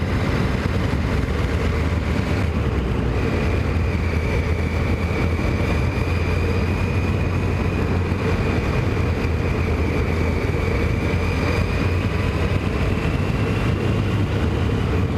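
A Kawasaki ZX10 motorcycle is ridden on the road, its engine giving a steady, loud droning hum mixed with continuous rushing wind noise and no talk.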